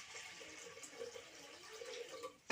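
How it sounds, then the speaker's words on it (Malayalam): Water is poured into a pot of washed lentils, a faint, soft trickling and splashing of liquid heard close and quiet for a couple of seconds. "പരിപ്പ് കഴുകി ഇതിലേക്ക് വെള്ളം ഒഴിച്ച് കൊടുക്കട്ടെ."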